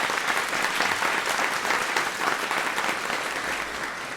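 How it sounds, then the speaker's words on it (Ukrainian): Sustained clapping from a large audience, loud and even, tapering off slightly at the end. "Ваші оплески."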